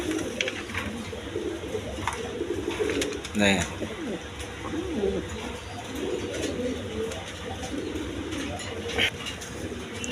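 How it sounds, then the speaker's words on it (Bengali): Giribaz pigeons coo in soft, repeated low calls close by, a sharper flutter rising briefly partway through, while someone talks over them. "এখানে এক পেয়ার গিরিবাস কবুতর আছে"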